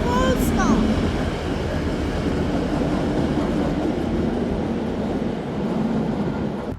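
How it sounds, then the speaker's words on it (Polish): A Gagarin electric locomotive passes with a single wagon, making a steady rumbling roll under wind noise, loud and sustained for several seconds, with people talking nearby. "Przelot mamy Gagarina."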